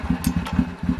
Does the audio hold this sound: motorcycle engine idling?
yes